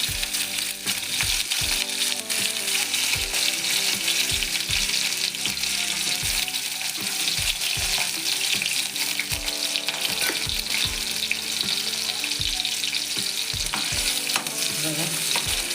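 Chopped onion frying in a pan for a fish curry, a constant close sizzle broken by repeated scraping knocks of a spatula stirring at irregular intervals, no voices present.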